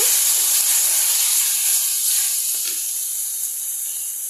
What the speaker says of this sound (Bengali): এইখানে আমি আলুটা ভাজা ভাজা করে নেব